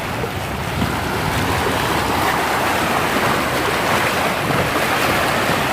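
Sea waves washing in a steady, loud broadband roar with wind buffeting the microphone, continuous throughout without talk.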